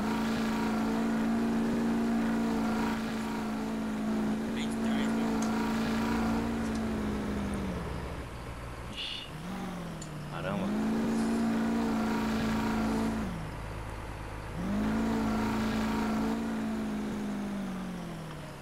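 A tractor engine in Farming Simulator 2015 drones steadily and loudly throughout. The pitch dips twice as the engine revs down, then climbs back up.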